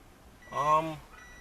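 A voice imitates a vehicle's reversing alarm with one short, drawn-out tonal beep, close and alone against a quiet background.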